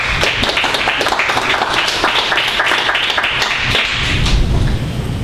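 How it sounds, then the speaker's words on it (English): A live crowdfunding event audience in Washington, D.C. applauds the panelists with sustained, dense clapping that stays loud and even throughout, filling the room. "everyone just give a round of applause to our panelists"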